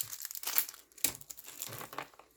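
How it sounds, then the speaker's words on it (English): A plastic bag with its top and sides cut off crinkles in a few quiet bursts at a metal clay jewellery workbench, soft and close, with short pauses between the rustles. "Plastic bag that has the top has been cut off and the sides have been cut."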